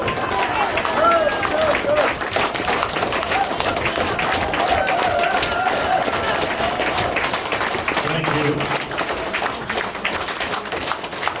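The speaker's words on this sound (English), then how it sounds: "Everybody stand up, make some noise" A fundraiser dinner crowd on U Avenue for a mayoral candidate breaks into dense applause and cheering that holds steady and loud throughout, with a voice briefly speaking over the noise.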